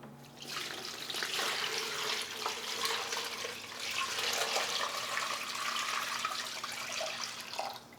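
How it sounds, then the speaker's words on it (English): Water pours steadily into a large rock tumbler loaded with a whole bag of grit and a cinder block, a continuous close splashing rush lasting several seconds with no talk. "And then we'll add our water."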